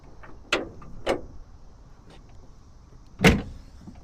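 The tailgate of a 2024 GMC Sierra Denali diesel pickup is lowered, giving a few sharp mechanical clicks and knocks spaced apart, ending in one louder close thunk over a quiet background.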